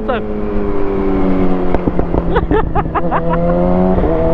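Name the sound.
motorcycle passing by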